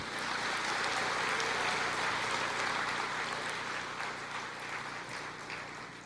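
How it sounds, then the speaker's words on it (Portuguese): Church congregation applauding during a sermon, a dense continuous wash of many hands clapping, loud and even throughout before easing slightly at the end. "pode aplaudir o Senhor"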